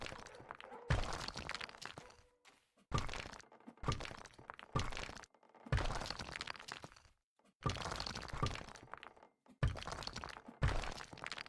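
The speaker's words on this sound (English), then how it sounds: "that's not going to stop me from destroying walls" Walls being smashed and demolished in a landlord game, with repeated loud cracking, crunching and breaking bursts separated by short silences.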